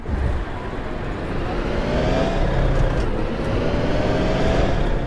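A bus in Bus Simulator 2023 drives along with a steady engine drone and road rumble that swells slightly, heard alone and fairly loud throughout.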